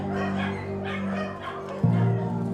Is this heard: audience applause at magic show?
no